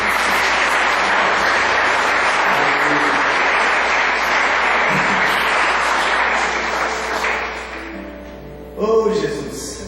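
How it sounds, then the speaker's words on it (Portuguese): A church congregation gives loud, sustained applause during a sermon, a dense wash of clapping that fades toward the end before a brief voice rises over it. "E aplaude esse Deus."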